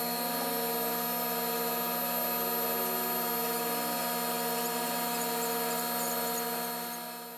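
An old machine runs loudly during a Gaso 3211 injection pump overhaul, a steady, dense mechanical whine with strong tonal hum that holds constant throughout before easing slightly at the end.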